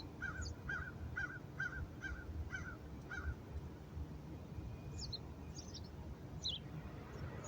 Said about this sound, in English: I love when my crows talk to me.